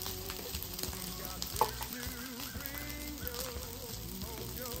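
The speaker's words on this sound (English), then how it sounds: "Okay, we want to crack our eggs." Eggs cracked onto a hot flat-top griddle and frying: a steady, close sizzle with faint scraping and small ticks underneath.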